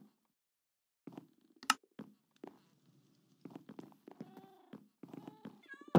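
A stray cat meows in a Minecraft SMP world: after a silent start, a string of close, distinct meows arrives irregularly, growing busier and louder toward the end.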